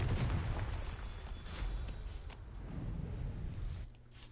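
A Confringo spell detonates in a wizard video game, a fiery blast bursting near and loud at the start, then a second rumbling boom and a fading crackle before the sound cuts quieter.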